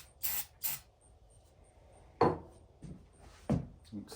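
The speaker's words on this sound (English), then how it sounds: "I'm gonna spray some starting fluid in it." Starting fluid sprayed into the carburetor of a Sears generator: two short, sharp hissing bursts close by, followed by a few quieter knocks and clunks of handling in a quiet setting.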